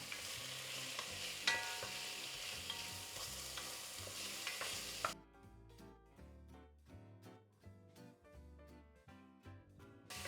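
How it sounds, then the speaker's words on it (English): Big lamb chunks with bone are stirred and seared in a pot for Algerian hariri, a loud close sizzle with scraping stirs for about five seconds before the cooking noise gives way to music. "Next we add all of our spices. Give it a stir."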